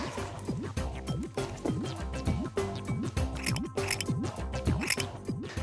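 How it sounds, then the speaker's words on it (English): Sharp scissors snipping small pieces of red wool for a craft, a quick run of crisp cuts repeating in a steady rhythm, close and clear over a light musical background. "we need to cut small pieces of wool like this"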